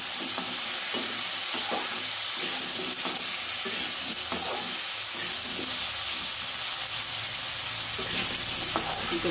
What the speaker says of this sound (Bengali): সামান্য নুন হলুদ দিয়ে আলুটা ভেজে নিচ্ছি।